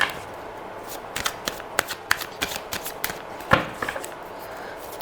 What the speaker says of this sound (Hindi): I am going to shuffle again